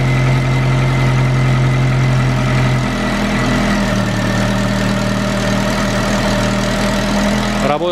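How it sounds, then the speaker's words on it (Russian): Steady 2003 Ford Focus 2.0-litre petrol engine idling close by, a continuous low rumble with even mechanical hum and no pauses throughout. "Работа двигателя на холостых оборотах"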